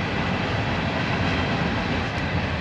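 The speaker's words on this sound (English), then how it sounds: "We'll take a timeout for the train." Train passing near a rural farm or ranch, a loud, continuous rumble and roar that holds steady throughout, with no talking.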